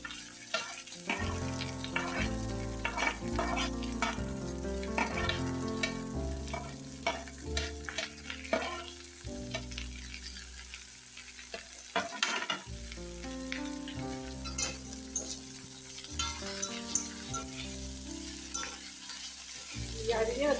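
Agathi leaves and flowers are tossed into a pan of wilted onion for a stir-fried thoran. A steady, close sizzle runs throughout, with scraping stirs and clinks against a busy tonal background.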